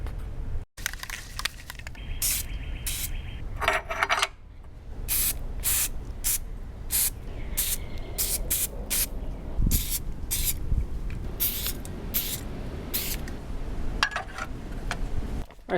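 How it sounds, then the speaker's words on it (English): Repeated short bursts of spray coating from an aerosol can onto motorcycle carburetor parts during a 1971 Honda CT90 rebuild, each hiss lasting about a second, close and loud in a quiet room, with brief pauses between. "surface shield on both sides of this, and then we'll bolt these on"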